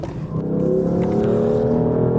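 A BMW or Lexus car engine pulls hard under acceleration on a race track, a loud, steady, rising drone that holds close and continuous throughout.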